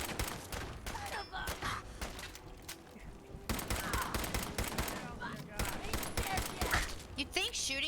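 Rapid 10mm gunfire aimed at an enemy in Fallout 4, with a dense stream of sharp shots rattling almost continuously at moderate level while a person talks over it.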